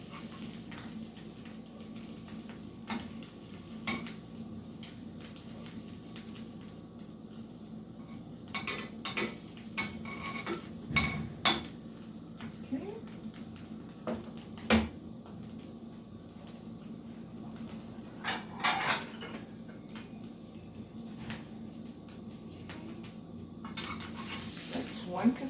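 Quesadilla cooking in a buttered pan, a soft steady sizzle under intermittent scrapes and clanks of a spatula against the pan as it is turned over, fairly quiet with occasional sharper knocks.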